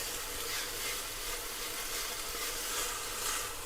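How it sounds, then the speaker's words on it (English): Diced onions sizzling in a little olive oil in a warm Dutch oven, a continuous close hiss that stays fairly even throughout, with faint stirring. "I'm going to put just a little zhuzh of some olive oil in there and add my diced onions"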